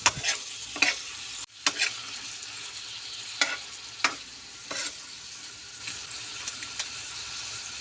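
Shrimp sizzling and frying in hot oil in a pan, a steady bright hiss throughout, broken by several sharp clacks and scrapes of stirring, with no talking.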